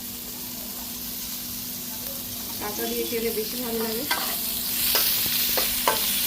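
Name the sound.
onions sizzling while stir-frying for noodles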